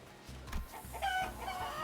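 Chickens cluck and cackle in the video game Limbus Company, a busy cluster of short squawks and clucks at close range over a low droning background, with no talk.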